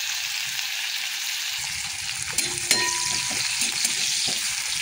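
Cumin and onion sizzle in a hot wok for kanji, a steady close frying hiss with occasional sharp crackles and stirring scrapes. No one speaks.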